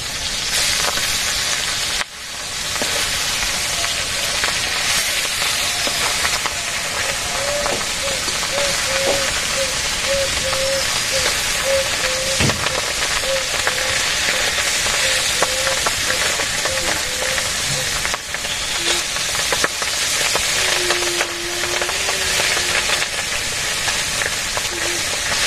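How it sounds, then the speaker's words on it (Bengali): Pabda fish frying in oil in a village kitchen, a dense, even, close sizzle crackling steadily without letup, with faint tonal sounds and small knocks now and then underneath. "তো মাছ ভাজতেছি এখন"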